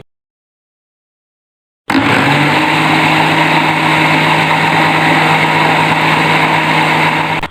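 An electric mixer beats homemade mayonnaise to thicken it for a chicken sandwich. After a silent start it runs as a loud, steady, unbroken whir to the end, with no talking.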